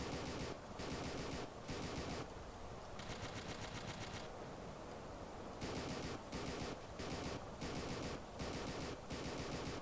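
Sustained automatic gunfire in the World War II shooter Battlefield 1942, rattling in long bursts with brief gaps between them, loud and dense over roughly ten seconds with no voice.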